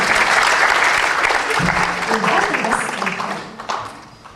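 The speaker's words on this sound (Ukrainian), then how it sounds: "Давайте аплодуємо нашим дівчаткам." Festival audience applauds warmly, a dense wash of clapping that swells then slowly tapers, with a voice briefly speaking over it midway.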